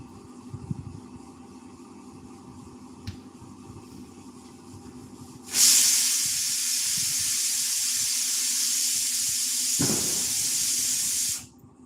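A kitchen pressure cooker suddenly lets out a loud, sustained steam whistle and hiss that runs unbroken for about six seconds before cutting off, after quiet room noise at the start.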